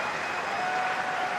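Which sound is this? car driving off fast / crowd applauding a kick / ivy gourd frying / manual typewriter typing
crowd applauding a kick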